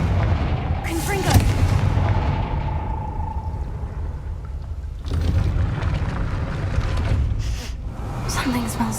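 A Confringo spell blast in Hogwarts Legacy bursts with a heavy booming impact and rumbling tail, followed by more rumbling blasts, with a voice speaking over parts of it.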